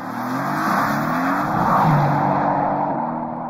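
Mercedes-AMG M178 twin-turbo V8 producing 510 horsepower revs hard, a loud, steady engine roar with rising and falling harmonic tones across a few seconds and no talking.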